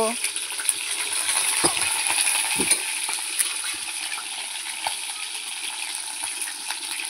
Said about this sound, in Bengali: সুন্দর করে মাছের মাথাটা ভাজা হচ্ছে।